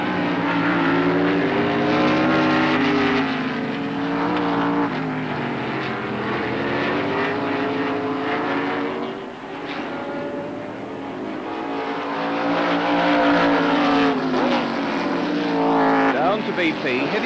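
Formula 5000 racing cars at Oran Park in 1979, big engines roaring loudly and continuously as they pass close by, the drone swelling and fading with a brief dip mid-way, no talk over it.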